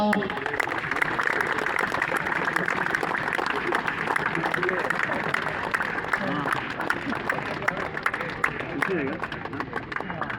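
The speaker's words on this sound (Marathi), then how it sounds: "जोरात टाळ्या वाजवा" Many people clap continuously in fast, uneven rhythm, a dense crowd applause with voices mixed in underneath.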